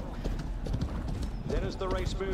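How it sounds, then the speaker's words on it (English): Hooves clip-clop steadily from a buckskin horse in a video game, a continuous rhythmic patter with a brief whinny-like tone near the end, heard under a talking voice. "Edwin, what do you think about my horse? Look at this. Brand new horse."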